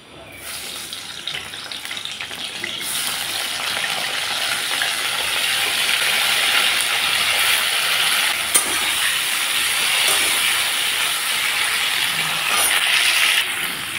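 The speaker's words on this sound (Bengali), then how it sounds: "দিয়ে দিলাম সরষের তেল। আলুগুলো এখন আমি ভেজে নেব।" Steady loud sizzling hiss of potatoes frying in hot mustard oil in a pan, continuous and close throughout, with a few faint clinks.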